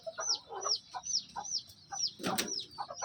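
Repeated high, rising bird calls in a steady series with soft clucking below and a brief burst of flapping near the end, close by.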